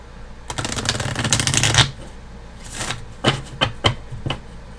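A deck of tarot cards is riffled in a dense, rapid flutter, followed by several separate sharp card taps and snaps, close up, with no speech.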